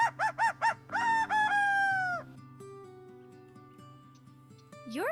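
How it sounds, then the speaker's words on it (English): A rooster crows close by, beginning with a few short clucks that lead into a loud, drawn-out cock-a-doodle-doo. A quieter stretch follows, then a rising call sweeps up at the end. "Rooster says, cock-a-doodle-doo"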